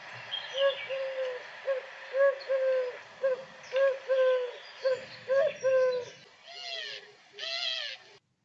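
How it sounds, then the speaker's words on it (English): A collared dove repeats its three-note coo in a steady rhythm, clear and fairly close, with a couple of harsher, rasping calls near the end. "Collared dove's song is a 3-note coo"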